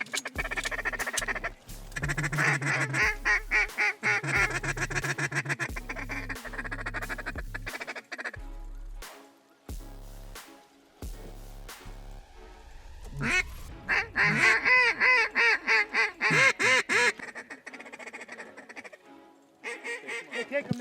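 A flock of mallards and Canada geese over an oat field quacks loudly and repeatedly in rapid, overlapping bursts, calling close by with brief pauses between rounds.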